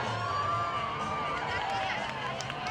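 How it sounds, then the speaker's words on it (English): A crowd cheers and roars steadily at the 2016 Nanaimo World Championship Bathtub Race, a continuous distant wash of voices along the waterfront, with a commentator talking over it throughout. "you can hear the crowd racing up"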